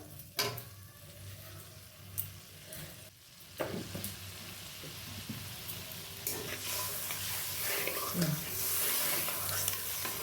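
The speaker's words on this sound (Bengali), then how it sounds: "একটু নেড়ে চেড়ে নেওয়া হচ্ছে" Fish curry masala is stirred in a pan, with a steady sizzle and bubbling and scattered scrapes and clinks from the spoon, moderately quiet throughout.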